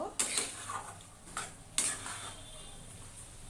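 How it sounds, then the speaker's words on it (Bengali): A spoon scrapes and stirs fried prawns through spice masala with Kashmiri chilli powder in a pan. A few soft, quiet scraping strokes come with a faint sizzle underneath. "নেড়ে চেড়ে নেব"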